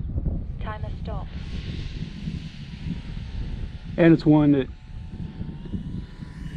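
A small engine buzzes steadily overhead from a flying RC model airplane, an Avios Grand Tundra, with wind noise and a couple of short bursts of speech.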